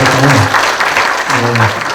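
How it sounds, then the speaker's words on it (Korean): Applause from an audience at a museum concert and panel talk in Pocheon, loud and close, with a voice speaking over the clapping. "두 분께 박수 한번 드리면서"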